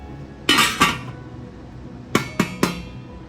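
A heavy, sturdy metal wok clanks and bangs a few times, two knocks then three more, loud and close in a quiet room.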